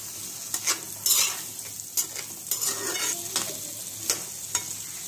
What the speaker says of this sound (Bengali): আলুগুলো একটু নেড়ে চেড়ে ভালোভাবে লাল করে ভেজে দিতে হবে।